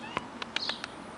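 A small alley kitten gives a few short, faint meows, closely spaced and close by, with no talking over them.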